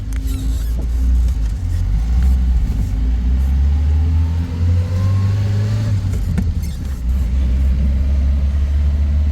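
A 1968 Fiat 850 Spider roadster with a 4-speed manual transmission, heard from inside while driving: a loud, steady engine drone rises and falls through revs and gear changes, with no talking.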